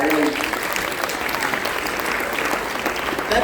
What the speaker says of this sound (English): can we clap for Ontari School?